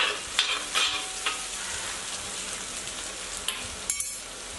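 Tindora (ivy gourd) frying with green chilies is stirred in a pan: a close, steady sizzle punctuated by several crisp scrapes and clacks of the spoon.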